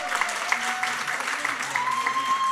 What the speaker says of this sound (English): Give yourselves a round of applause, and these ladies over here.